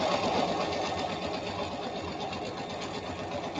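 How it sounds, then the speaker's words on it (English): Sewing machine stitching seams on technician coveralls, a steady fast mechanical chatter running continuously and close up, with no talking. "I'm just going to sew along this line here, right up to where I sewed the crotch piece."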